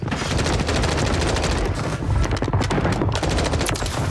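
Sustained automatic fire from an MCW assault rifle in a Call of Duty–style shooter, a fast steady stream of close, loud shots with no talking.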